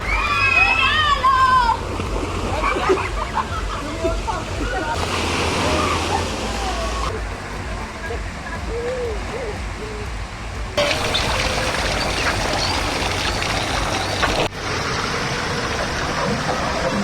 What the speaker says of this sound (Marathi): ते दोन्ही बाजूला असे पाण्याचे ड्रम होते मोठे मोठे, जे की भरले की आपोआप खाली त्यातून पाणी सांडत होतं